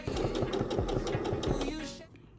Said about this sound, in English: So we're going to sew one long line on this side